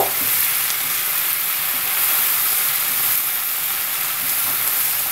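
Half-boiled potato, pointed gourd and onion bhaji being mixed in a hot pan, a loud, dense, unbroken hiss of frying with faint stirring, heard alone for several seconds.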